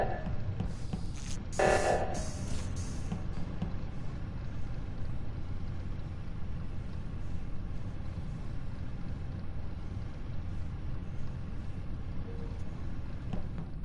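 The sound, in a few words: phone ringing, Chicago PD ringtone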